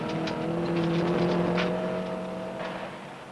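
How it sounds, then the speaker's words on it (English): Hannu Mikkola's rally car at a 1968 rally in Finland, engine droning at steady pitch with gear whine, close and loud, small stones ticking and pattering against the body throughout. "Now Hannu Mikkola gives us a demonstration of just why this is true, to an accompaniment of bouncing stones."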